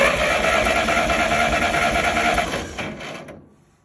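A tractor's electric starter cranks the engine with a dense, fast mechanical whirring and clatter up close, holding steady for about three seconds before winding down and cutting off.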